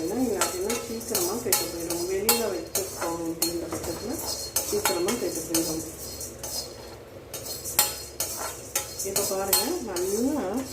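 Chana dal dry-roasting in a pan while a metal spoon stirs it, making repeated scraping clinks and taps against the pan, with a person talking over much of it.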